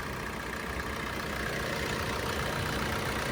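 A 2018 Maruti Brezza ZDi diesel engine idling with the hood open, a steady, even drone that holds without change from start to finish.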